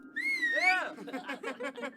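Whistled melody in the video game Tiny Bunny: a clear rising and bending tone at the start, followed by a soft patter of childish voices and laughter-like sounds through the rest.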